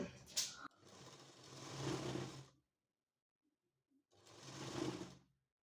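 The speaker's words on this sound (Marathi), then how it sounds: "तर अशा पद्धतीने इथं आपण टीप टाकून घेतलेली आहे" A sewing machine stitches a sleeve in two loud, close bursts of rapid whirring with a quiet pause between, preceded by a brief click.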